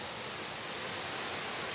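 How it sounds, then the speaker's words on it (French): Mountain stream rushing through a rock gorge carved by the water, a steady broadband wash of flowing water, fairly close and continuous, with no voices. "Et ça, c'est le ruisseau du Gros Dard."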